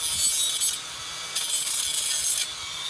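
Hand sawing or trimming excess wood off a homemade ceiling pull-up bar, with two long rasping strokes separated by a short pause, close and steady, no talking.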